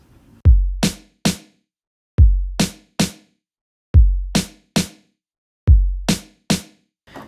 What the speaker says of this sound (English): We'll do the kick on the 1, we'll do the snare on the end of 1, snare on 2, and then we'll do the kick on 3